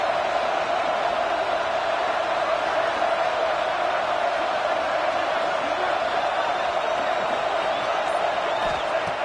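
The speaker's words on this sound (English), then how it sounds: "It's early, but this crowd is fired up. Listen to this noise here." Steady roar of a college football stadium crowd, continuous and loud, with diffuse cheering and shouting blended into a dense wash of sound throughout.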